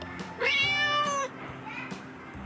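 A single drawn-out cat meow, clear and close, with faint background noise before and after.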